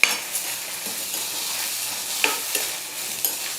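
Coconut pieces, peanuts and dried chillies sautéed in a pan for chutney, with a continuous close sizzle and occasional light scraping taps of a spatula stirring against the pan, and no one talking.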